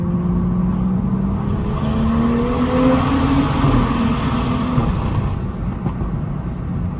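BMW with an N55 engine fitted with Pure 500 turbos, rolling into a full-throttle pull while heat soaked and running lean, a loud in-cabin engine drone with rising tones climbing in pitch as it accelerates.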